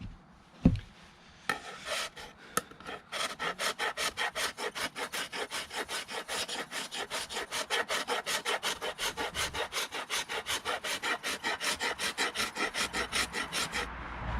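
Steady back-and-forth strokes of a hand rasp shaving wood from an axe handle, close and regular, running long after a few sharp knocks at the start.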